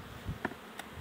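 Honeybees buzz faintly around an opened hive during beekeeping work before the acacia bloom, with a soft steady hum and a couple of brief, closer wing passes.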